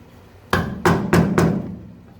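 Four sharp metallic knocks in quick succession, close and fairly loud, as rivets are flaked off a boat transom with care taken not to damage the surrounding metal.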